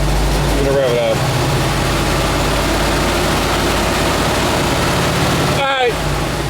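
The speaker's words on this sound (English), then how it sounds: "Yeah, you want to go rev that up for a second?" Engine of a 1954 VW Beetle revving while the charging is checked: a loud, steady, rough mechanical drone that holds throughout, with brief voices breaking in twice.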